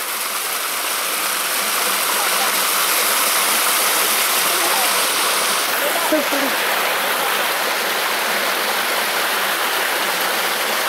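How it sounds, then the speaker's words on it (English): A waterfall tumbles beside rocks on a nature walk, its loud, constant rushing roar filling the whole scene up close, with a single brief word spoken over it. "Just to see the waterfall."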